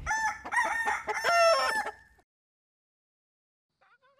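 A rooster crows loudly and close by in one long, rising-and-falling call, followed by silence and a faint start of another cry.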